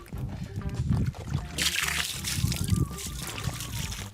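Fresh water poured over skin and splashing into a salt pool in Siwa, Egypt, a close trickling and sloshing stream that swells into a brighter splash midway, with faint voices in the background.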